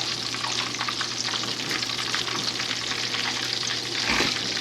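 Taquitos fry in hot grease, a dense, steady crackling sizzle heard up close and continuous throughout, with a faint low clunk near the end and no talking.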